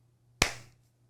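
A single sharp hand clap rings out close and loud, then decays quickly into a quiet room with a faint steady hum.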